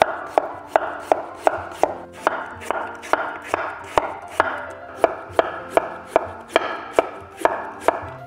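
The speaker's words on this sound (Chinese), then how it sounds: "换一个菜板来切佛手瓜，佛手瓜切片就可以了。" Chayote being sliced on a chopping board, a steady series of sharp knife strikes hitting the board at an even rhythm, close and clear with no talking.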